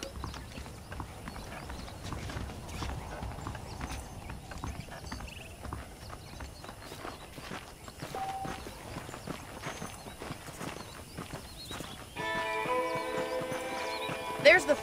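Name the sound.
horse hooves riding in video game Red Dead Redemption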